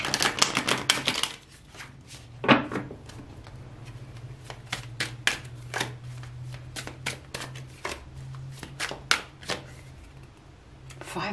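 Tarot cards shuffled by hand in a long run of quick riffling, slapping bursts, close and crisp, with a low steady hum underneath and no talking.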